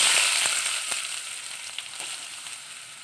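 Chopped onion and green chilli hit a very hot pan, giving a loud, steady broadband sizzle with scattered crackles and pops that ease slightly over the few seconds, no voices over it.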